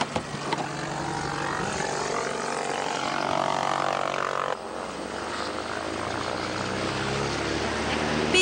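A light tow plane drones steadily through takeoff while pulling a glider into the air, its propeller engine loud and continuous, the tone shifting partway through as it climbs.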